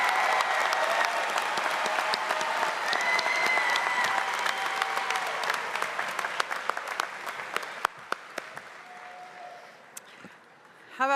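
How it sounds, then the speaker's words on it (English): A large audience at a Salisbury University graduate commencement ceremony gives sustained applause that gradually thins out and fades, ending in near quiet before a voice comes in. "How about one more round of applause for all of our graduating students today?"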